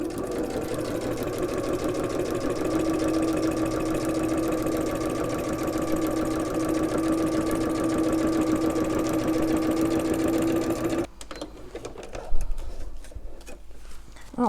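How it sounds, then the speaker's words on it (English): A sewing machine runs steadily, stitching a diagonal line across layered paper chenille. The whirring motor stops near the end, followed by quiet handling noises. "I'm going to start by just sewing a diagonal line all the way across to kind of secure everything in place"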